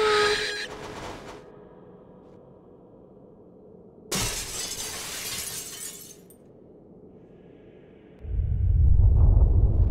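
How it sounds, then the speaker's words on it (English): In The MISSING: J.J. Macfield and the Island of Memories, owls are startled by a loud crash like glass breaking, followed by a sharp burst of fluttering and a rising low rumble near the end. No one speaks. "But I just need to spook these owls here."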